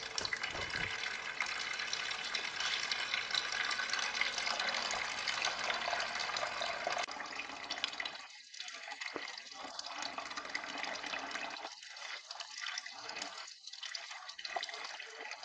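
Water rushing and gushing steadily through a clogged car heater core as it is flushed clean, a continuous splashing stream that thins and sputters in the later half.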